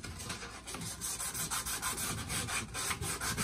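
Sandpaper rubbed back and forth over the cut end of a PVC pipe to take off a burr during a P-trap installation, a steady, close, rasping scrub in quick repeated strokes with no talk.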